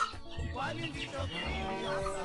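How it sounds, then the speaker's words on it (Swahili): A three-month-old improved crossbred broiler chicken clucks softly and repeatedly, close by, with a low voice murmuring in the background. "Na ukimwona hivi huyu kuku ako tu na miezi 3."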